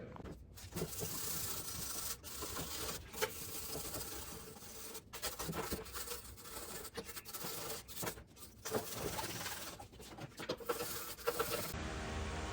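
Scraping along the upper oil pan flange edge of a Ford F-550 truck, a continuous close rasping and rubbing with short pauses between strokes and no talking.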